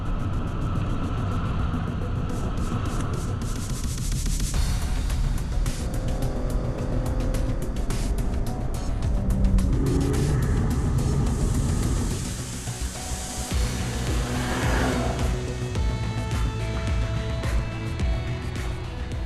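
A racing car driving during training, with a loud, continuous engine rumble that shifts in pitch as it accelerates and slows, plus gear changes and passing whooshes.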